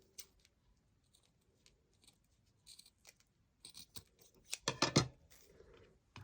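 Scissors trim the ragged edges off fabric scraps for a glittery ornament, making soft, close snipping and scratchy cutting sounds that grow busier toward the end.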